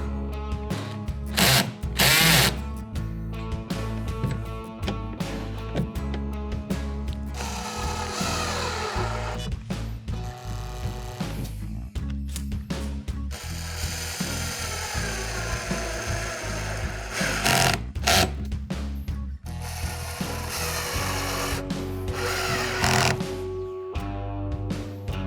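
Cordless power drill driving screws into the plastic backing ring of a rear hatch on a Hobie 2020 Outback kayak, several loud whirring bursts of varying length, close up, with clicking and rubbing between runs.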